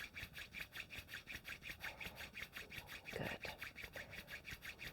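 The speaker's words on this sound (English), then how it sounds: "rubbing the palms" Palms rub briskly together in a steady, even rhythm of back-and-forth strokes during a quiet pranayama and meditation session, soft but close in a still room.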